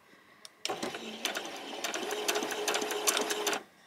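A sewing machine stitches a wrap skirt in a close, rapid mechanical rattle that starts abruptly, runs steadily for about three seconds and then stops.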